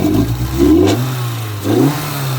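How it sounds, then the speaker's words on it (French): A car engine with a new VAL-Racing limited-slip differential gets two quick throttle blips, revs rising and falling back toward idle, loud and close with no talking. "Avant, je mettais un petit coup de gaz comme ça."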